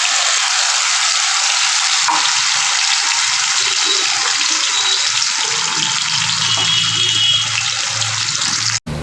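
A paste of mustard, garlic and green chilli fries in hot oil, giving a loud, steady, close-up hiss of sizzling that holds almost without a break and then cuts off sharply at the end.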